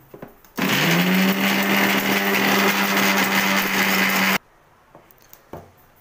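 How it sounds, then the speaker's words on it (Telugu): A kitchen mixer grinder whirs loudly for about four seconds as it blends spoiled curd into a liquid plant fertilizer. It starts abruptly, holds a steady high whine, then cuts off, leaving light handling clicks. "దీన్ని ఇప్పుడు మిక్సీ పట్టుకోవచ్చు."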